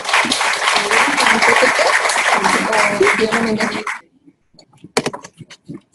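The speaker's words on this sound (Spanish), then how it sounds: "Le damos fuertes palmas recibiendo en este tiempo." A conference audience gives the speaker a loud, dense round of applause that fills the room for about four seconds, then cuts off into a few scattered claps and knocks.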